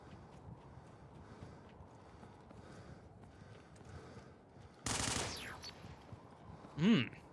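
Gunfire in the sci-fi shooter Interstellar Marines: a sudden burst of loud, dense rapid shots erupts partway through, then a second sharp shot or impact follows a moment later, over low background game ambience.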